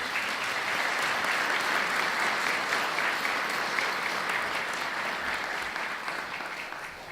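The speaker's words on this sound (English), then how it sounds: "Let's give our City Finance Department a round of applause." An audience at Fayetteville's 2017 State of the City address claps for the city finance department, giving a dense, sustained round of applause that carries evenly throughout before tapering slightly at the end.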